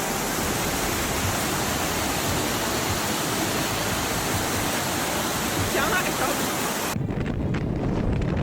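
An outdoor cascade where local residents spend their lunch break roars as a dense, continuous wash of falling water, loud and close. The sound shifts abruptly near the end as the upper hiss drops away.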